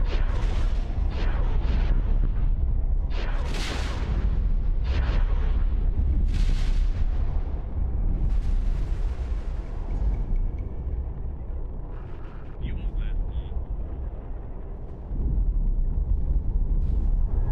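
Heavy rumbling explosions and booming blasts as a Predator Star ship is destroyed in a Star Wars space combat game, a continuous loud barrage with repeated surges over about seventeen seconds.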